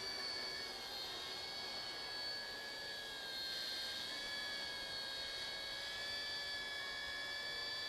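A small ERA RC A60 Bell 206 model helicopter on its first flight whines steadily at a high pitch, its motor tone holding nearly constant with a faint wavering, alone with no voices.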